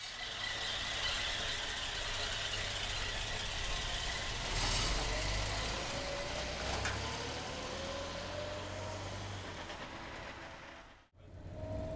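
A 1950 Chevrolet pickup truck with a three-speed column shift drives along, its engine a steady low drone with a rising whine as it pulls through the gears, heard from inside the cab, with a brief dip near the end.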